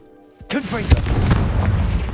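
A Confringo blasting spell explodes in a video game, a single deep boom that erupts suddenly after a brief quiet lead-in and rumbles on with a rolling, debris-like tail.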